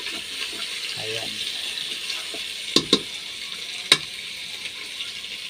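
Pork humba fries in oil in a pan, a steady close hiss and sizzle with a few sharp clinks and taps, while a voice speaks briefly.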